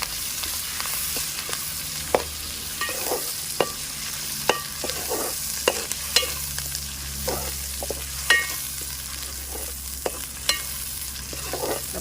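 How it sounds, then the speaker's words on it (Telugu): Ginger garlic paste and a spoon of turmeric being stirred in a frying pan for tomato egg curry, with a steady low sizzle under repeated sharp spoon scrapes and clinks against the pan, close and moderately loud, no talking. "ఒక్క చెంచే అల్లం వెల్లిగడ్డ, ఒక్క చెంచే పసుపు 2 వేసుకొని కలుపుకుందాం."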